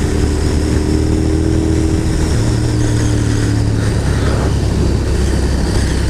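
A motorcycle cruises at a steady 55 mph on a road ride to Bald Peak, with a constant engine drone and heavy wind rush throughout and a slight shift in engine pitch partway through.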